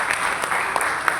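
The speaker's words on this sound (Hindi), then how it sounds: "आवाज आपकी तालियों की इतनी हल्की है" An audience at a Ramlila gathering in Delhi claps in a light, thin patter of scattered hands, brief and fairly soft, with a few sharper individual claps standing out.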